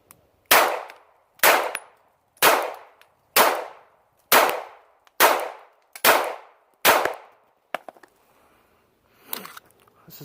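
A Bersa Firestorm .380 pistol fires about eight sharp, evenly spaced shots outdoors, each crack trailing a short echo, followed by faint clinks and handling noise.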